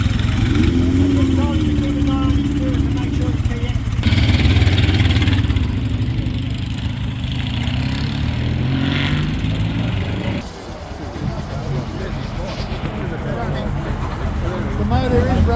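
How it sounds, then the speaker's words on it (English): Motorcycle engine running steadily up close as riders depart, a continuous loud drone with shifts in pitch and level, heavily overlapped by people talking throughout. "The motor is running. There goes Noel on his"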